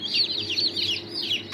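Young ginger chicks in a brooder, a rapid chorus of high, bright peeps and cheeps overlapping continuously, close and fairly soft.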